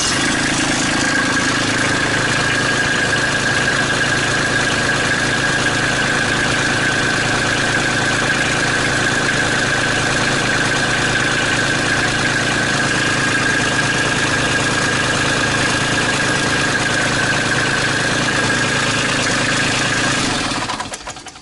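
Kubota B2650 compact tractor engine idling steadily after a restart, a loud, even diesel drone that holds unchanged for about twenty seconds before cutting off abruptly.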